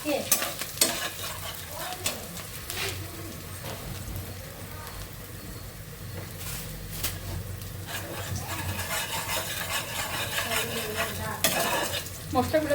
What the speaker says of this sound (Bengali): পেঁয়াজটা ভাজা হোক একটু ভেজে না পরে মশলা